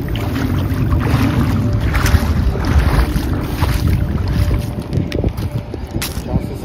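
A fishing boat pushes through water on a river or lake outing, giving a steady broadband wash and low rumble with wind buffeting the microphone, continuous and close, with no talking.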